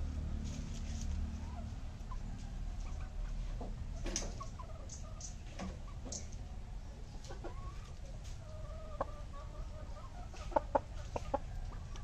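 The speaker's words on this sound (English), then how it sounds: "you may hear some bird sounds and also the chicken" Chickens clucking softly nearby at a farmhouse over a low outdoor hum, with a few sharp taps and scattered faint bird calls.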